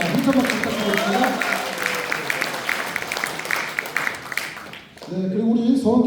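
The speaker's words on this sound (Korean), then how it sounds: "한참 박수 부탁드리겠습니다" Sustained applause from an audience at a Democratic Party members' rally in Cheongju, steady clapping under a speaker's voice that dips briefly before the talk resumes.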